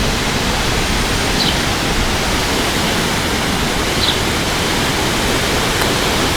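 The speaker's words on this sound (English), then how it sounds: "Still really windy." Steady wind rushes across the Lake Michigan lakeshore at Holland State Park after a storm, a dense continuous hiss with no break.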